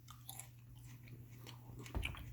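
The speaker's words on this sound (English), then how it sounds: "I'm gonna go ahead and chew this up." Someone chews diced raw Transylvanian garlic, with quiet, close, irregular crunching and biting sounds over a low steady hum, a louder crunch near the end, and no talking.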